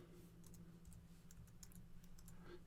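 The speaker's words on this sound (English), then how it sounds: "type in your website URL with that subdomain in it" Computer keyboard typed on at a desk, a quick run of light key clicks, faint and close over a steady low hum.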